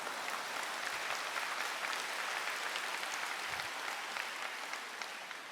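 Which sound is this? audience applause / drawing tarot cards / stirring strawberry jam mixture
audience applause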